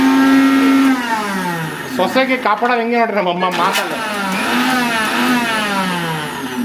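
A mixer grinder runs with a steady motor whine that sits under a person talking throughout, at moderate loudness and close by.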